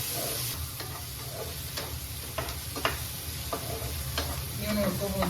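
Onions and halved tomato fry in a pan with a steady sizzle, while a utensil scrapes and stirs at irregular intervals; the frying is close and moderately loud, with no talking.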